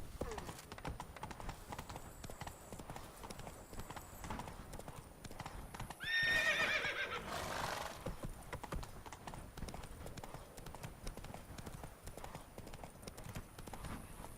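Horse hooves clip-clopping in a video game, with a brief whinny or neigh standing out midway over a steady background of game ambience and music.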